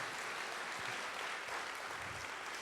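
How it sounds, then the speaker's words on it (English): Audience applause at an 80th birthday party celebration, a steady wash of clapping from a crowd at moderate distance, continuous and fairly soft throughout without speech. "So please give Terry a big round of applause"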